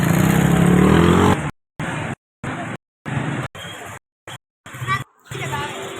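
Scooters and motorbikes rev and pass along a busy market street in Raja Bazar, Rawalpindi, engine drone and crowd babble with a voice over the traffic, broken by several abrupt silent gaps.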